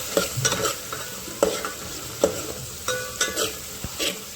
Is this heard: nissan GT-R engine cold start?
no